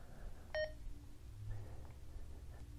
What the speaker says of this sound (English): If I turn it on, it beeps.